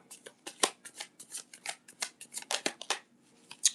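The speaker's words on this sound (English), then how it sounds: "Sometimes that deck sticks, and I don't want to keep shuffling with it." A deck of tarot cards is shuffled by hand in a quick, uneven series of riffling bursts that are close and fairly quiet, with short pauses between the runs of card snaps.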